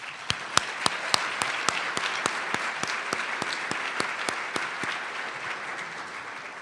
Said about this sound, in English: I want a round of applause for NSF.